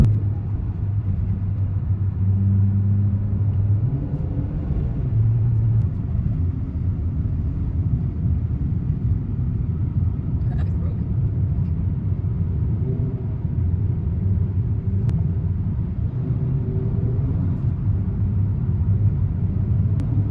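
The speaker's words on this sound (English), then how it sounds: "We were all driving extremely slowly because it's dangerous" A van rolls slowly along a snowy road, giving a steady low engine and road rumble that stays fairly constant throughout with no talk.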